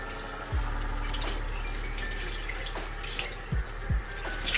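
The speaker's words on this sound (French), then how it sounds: "je vais passer mon moule silicone sous l'eau" A silicone mould is rinsed under a running kitchen tap, giving a steady close stream of water with a few louder splashes and knocks as it is handled.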